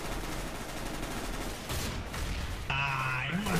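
Bursts of gunfire in Counter-Strike: Global Offensive crackle continuously for several seconds at steady loudness, with a sustained tonal game sound joining near the end.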